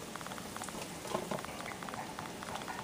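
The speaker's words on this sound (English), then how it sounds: "So I have a pot of water here that is boiling." A pot of water boiling on the stove with shiitake mushrooms in it, a steady faint bubbling and popping patter, heard alone.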